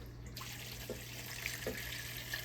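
Water pours from a tap into a pot of black-eyed peas with hot sauce and smoked ham hocks. It sounds like a continuous close rush with a few small splashy knocks, and no one speaks.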